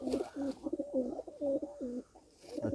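Pigeons of the Sindri breed coo close by in a repeated, throaty, wavering series of low calls, several rising and falling phrases in a row, loud against a quiet background without talk.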